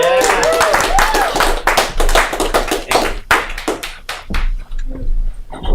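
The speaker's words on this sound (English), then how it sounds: "Give a round of applause for Ed Sato." At a live comedy show, a small audience claps for the comedian taking the stage. The claps are close and distinct and thin out over a few seconds, and a voice is heard over them.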